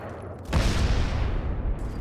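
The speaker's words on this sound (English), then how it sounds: "Brown getting taken out by an airstrike." Airstrike explosions in the mobile shooter Modern Combat 5 on iOS: a sudden loud blast erupts about half a second in and rolls into a sustained rumbling barrage of booms that stays heavy to the end, with no talk.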